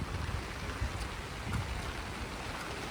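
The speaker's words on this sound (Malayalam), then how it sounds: "നല്ല മേഘവും മഞ്ഞും മഴയുണ്ട് ഇവിടെ." Steady rain falls in Nainital along the Mall Road on a misty, cloudy day, an even wash of pattering drops with no voices.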